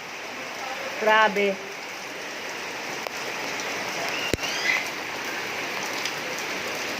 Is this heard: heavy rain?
yes